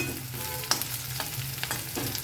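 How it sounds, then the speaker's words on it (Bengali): Chopped onion, taro stems and potato sizzle steadily in hot oil tempered with cumin, bay leaf and dried chilli, with a few sharp scrapes and clinks of a spatula stirring the pan close by. "দিয়েছি কেটে রাখা পেঁয়াজ, কাঠি কচু, আলু। এগুলো সব লাল লাল করে একটু ভাজা হয়ে গেল।"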